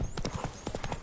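A horse in a video game trots along, its hooves clip-clopping in a quick, even rhythm close by for about a second.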